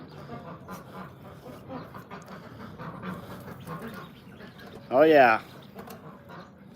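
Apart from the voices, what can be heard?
ducks and ducklings quacking while eating tomatoes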